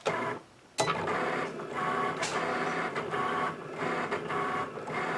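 A Cricut cutting machine cuts vinyl with a soft mechanical whir, punctuated by clicks and repeated carriage movements, with a short pause near the start.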